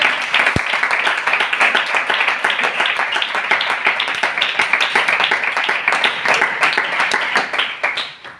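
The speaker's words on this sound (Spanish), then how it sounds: "Aplaude si quieres." A church congregation applauds in a sustained, dense burst of clapping at a steady loud level, with a brief low thump near the start, before the clapping fades away at the end.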